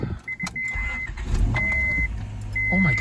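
A Honda Prelude engine idles steadily after reassembly with a low, even hum, while short high electronic beeps sound at intervals over it.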